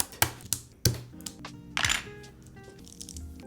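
Keystrokes clack on a mechanical keyboard fitted with BakenekoGO O-ring mounted switches in a plastic case, a handful of separate taps and short bursts at a quiet level with no talking.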